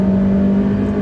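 A 2019 Honda HR-V engine, shifted by paddle in sport mode, revs toward redline. The steady, loud whirring drone is heard from inside the car and fills the whole second.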